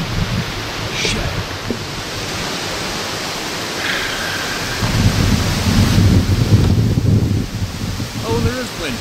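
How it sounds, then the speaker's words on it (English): Strong wind on a beach on Vancouver Island buffeting the microphone, a loud, continuous roaring rumble that swells midway, with a faint voice briefly audible beneath it. "Oh, there is wind here."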